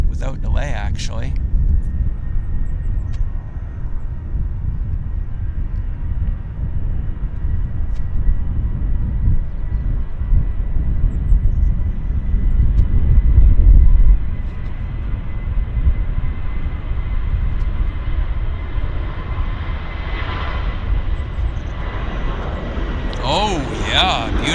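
A WestJet Boeing 737-700 airliner takes off at Vancouver Airport, its jet engines a loud, sustained roar that swells and holds steady, while people talk briefly at the start and end.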